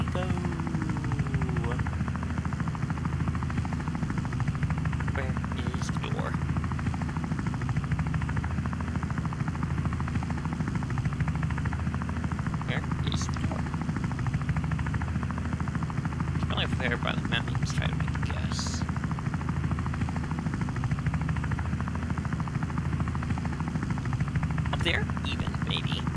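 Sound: helicopter flying in the video game Wobbly Life

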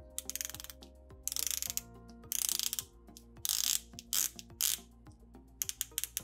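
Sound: Rado Captain Cook bronze watch ceramic bezel rotating, notchy clicks

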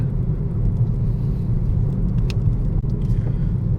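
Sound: cars driving past on a busy road

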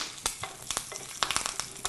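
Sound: tempering: mustard, cumin, urad dal, curry leaves frying

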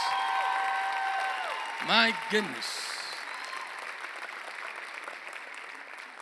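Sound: audience applause for the youth ministry

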